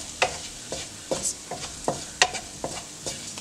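Chicken sautéed with Kashmiri chili powder in a pan for kadai chicken: rhythmic scrapes of a spatula every half second or so over a steady close sizzle, no voices.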